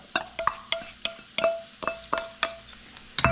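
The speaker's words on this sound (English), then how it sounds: "We're going to add the mushrooms to the pan" Mushrooms dropped into melted butter in a hot pan, sizzling close by with a run of sharp clinks and stirring knocks against the pan, each followed by a short burst of crackle.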